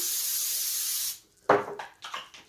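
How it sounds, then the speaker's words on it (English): A steady hissing spray of cooking oil onto a pan lasts about a second, then stops, followed by a few soft clinks and knocks. "I'm going to spray my pan."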